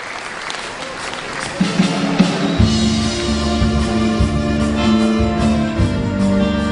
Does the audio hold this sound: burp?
no